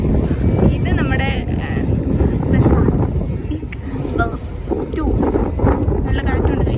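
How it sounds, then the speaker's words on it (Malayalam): Strong wind buffets the microphone outdoors at JBR in Dubai, a loud continuous low rumble with gusts, while someone talks over it throughout. "നല്ല കാറ്റുണ്ട് ഗൈസ്."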